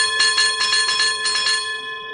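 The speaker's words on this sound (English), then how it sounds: "Well, I also told him he could ring the bell." A bell rings repeatedly with sustained metallic overtones, several strikes in a steady rhythm, fairly loud and close, with no talk over it.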